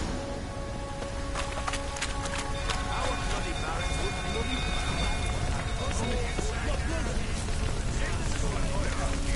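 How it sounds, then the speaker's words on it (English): Rain in The Witcher 3, a steady, moderate hiss of falling drops that persists throughout, mixed with other game sounds such as running steps or hooves. "Looks like rain."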